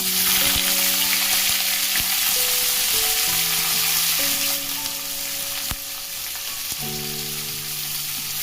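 Vegetables hit hot oil with browned ginger and garlic for chilli chicken, sizzling loudly and steadily up close while soft stirring clinks and sustained tonal hums sit underneath.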